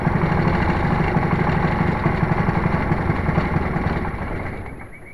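Small ultralight aircraft engine on the ground, running loud and steady with a buzzing mid-range drone, then winding down and fading as the throttle comes back.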